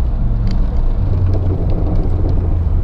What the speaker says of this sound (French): C'est bien un pot d'échappement de kéké, tout va bien.